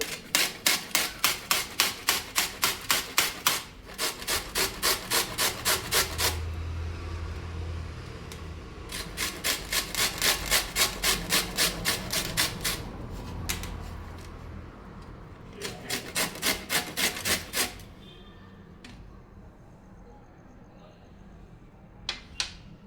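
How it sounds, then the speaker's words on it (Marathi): Beetroot being grated by hand in a home kitchen, with bursts of quick rhythmic rasping strokes broken by short pauses, close and fairly clear. "आपण इथे बीटरूट किसून घेऊया."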